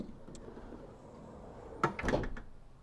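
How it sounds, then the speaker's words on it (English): Sliding side loading door on the passenger side of a 2017 Ford Transit Custom 2.0 TDCi Limited van, a sharp clunk and rattling slide heard close by after a quiet stretch. "side loading door on the passenger side"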